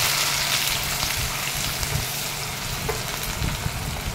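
Onion frying in a pan with bay leaf, cinnamon, cloves and cardamom gives a soft, continuous sizzle with scattered crackles and light stirring, steady and fairly quiet throughout.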